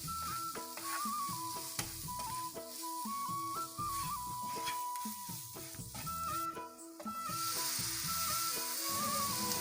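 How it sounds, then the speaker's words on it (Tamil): Garlic sautés in a pan for a Kerala-style beef roast. A steady hissing sizzle runs throughout beneath a louder stepping melody of background music. "பூண்டை போட்டு நல்லா வதக்கிட்டு"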